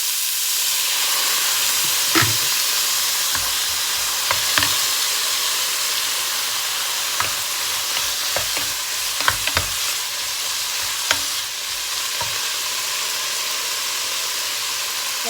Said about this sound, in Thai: เดี๋ยวเราก็ผัดให้ หมูสามชั้นสุกนะคะ